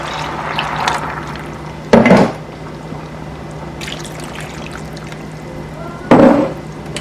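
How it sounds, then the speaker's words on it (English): Broth poured into a cooking pot, two short splashy pours separated by a quiet pause, close and distinct, over a faint kitchen hum. "After you mix that in, you're gonna add your broth."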